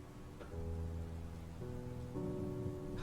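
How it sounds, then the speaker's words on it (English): Rain falling in the video game My Friendly Neighborhood, a soft continuous hiss of downpour under low steady game music tones. "Oh, and of course it's raining."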